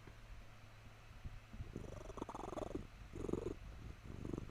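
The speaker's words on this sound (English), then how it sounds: "I want everyone to hear his purr." A domestic cat purrs close by in a soft, low, rhythmic rumble with repeated pulsing breaths, faint and steady over quiet background noise, with no talking.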